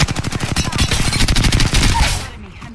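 Rapid automatic gunfire in a first-person shooter video game, loud bursts of repeated shots densely packed for over two seconds before cutting off to near silence.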